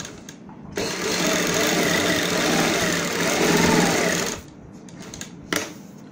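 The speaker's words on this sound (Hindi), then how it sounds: "और यहाँ पे हमें सिलाई लगानी है।" A sewing machine stitches fabric for a palazzo pant bottom design, running at a steady whirring, rattling pace for about three and a half seconds, then stopping and giving one brief burst a moment later, loud and close.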